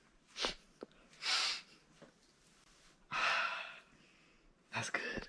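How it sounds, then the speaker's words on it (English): Someone sniffs a pizza up close, making several sharp nasal inhales and breaths separated by quiet gaps, with no talking. "I'm just sniffing it."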